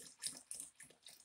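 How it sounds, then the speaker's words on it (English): Water poured into Klesh gold-strike paydirt to prepare it for panning, a quiet, brief splashing trickle with a few soft bursts. "So we're going to go ahead and put a little water in that."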